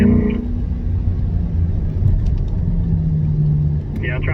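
A Chevrolet C8 Corvette rumbles low and steady on a racetrack, engine drone heard from inside the car, with an instructor's voice coaching over it.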